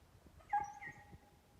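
A six-month-old beagle pup gives a brief, high whimpering yip while out hunting white hares, one short cry over quiet outdoor background.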